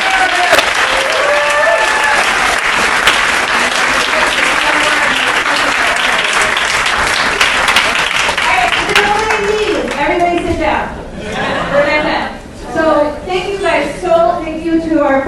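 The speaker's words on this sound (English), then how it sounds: "Well, just another huge round of applause." Audience at a Green New Deal town hall breaks into loud sustained applause that fills the first half, then thins into scattered clapping as a speaker talks over it.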